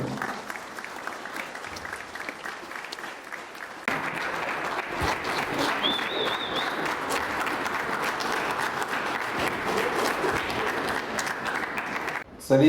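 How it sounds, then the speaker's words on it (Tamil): An audience applauds after a solo Tamil theatre play, steady clapping that swells louder partway through, with faint voices in the background and a brief sharp sound right at the end. "நாடகத்துறை இதுக்காகவே இன்னொரு முறை கைத்தட்டு."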